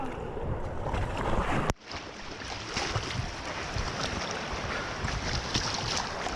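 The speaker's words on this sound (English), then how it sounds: "rafting in River Ganga" River rafting on the Ganga at Rishikesh: steady rushing water and splashing waves around the raft, with wind noise and a brief thump partway through, fairly quiet overall.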